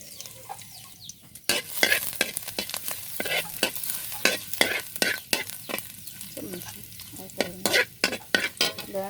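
Garlic sautéing in a pan, heard as crackling sizzle bursts over a low background hiss, with the sizzling flaring up repeatedly as the garlic is stirred; there is no talking.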